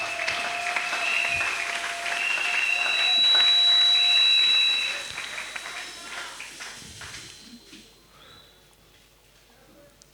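Church congregation clapping and cheering in praise, loud sustained applause with a high whistle that builds over the first few seconds, then thins out and fades to near silence by the end.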